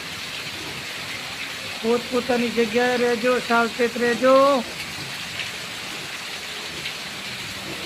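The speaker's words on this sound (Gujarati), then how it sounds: "ફૂલ વરસાદ છે મિત્રો." Heavy rain pours down steadily as a broad, constant hiss throughout, while a voice speaks briefly over it in the middle.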